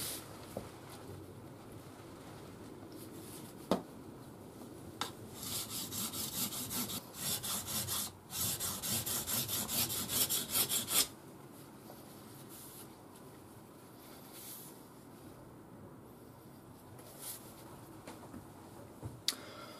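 Knife blade with a scandi grind rubbed on DMT diamond sharpening stones, giving rapid rhythmic scraping strokes in a burst of several seconds, close and fairly quiet, with sparse clicks before and after.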